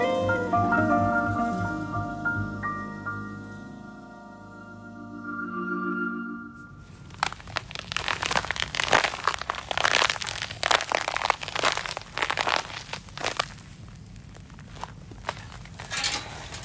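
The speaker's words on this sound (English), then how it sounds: "That is the sound of our very frozen AstroTurf outside of our Airbnb." Frozen AstroTurf outside a Tokyo rental on a night near 28 degrees crunches underfoot in a steady run of crisp, close footsteps. They start after a few seconds of quieter tonal sound and continue to the end.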